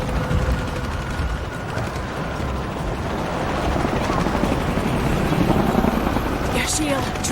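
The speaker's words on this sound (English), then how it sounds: "More helicopters." Helicopters in the video game Shadow of the Tomb Raider drone with a loud, dense rotor whir that holds steady and swells slightly toward the end, with faint mechanical clatter beneath.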